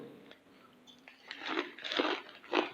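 Close, crisp crunching of a fried mixture snack, with several bites and chews growing louder toward the end and no talking.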